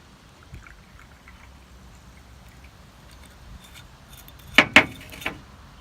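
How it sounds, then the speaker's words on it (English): Soda water is poured into a glass of lilac syrup drink with fresh lemon juice, making a soft, steady fizzing pour close by, followed by a couple of sharp glass clinks near the end. "Now time to top with soda water."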